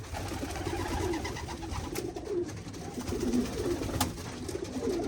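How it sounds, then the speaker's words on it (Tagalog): Pigeons coo repeatedly in soft, throaty phrases against a steady background hum, with a few faint clicks and rustles. "so ayun ang mga ibon natin"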